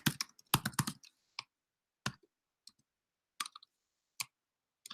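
Code being typed on a computer keyboard for React lifecycle hooks: a dense burst of quick key clicks, then sparse single taps and short clusters separated by silence, close and clear.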